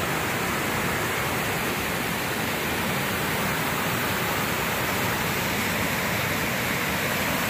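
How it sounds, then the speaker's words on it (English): Waterfalls roar steadily throughout, a dense, broadband wash of falling water close by with no breaks and no voices. "here at these waterfalls."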